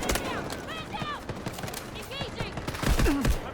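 Rapid gunfire bursts from the video game Delta Force, close and loud, mixed with a voice talking over the shots.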